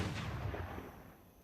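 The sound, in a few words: artillery fire in a video game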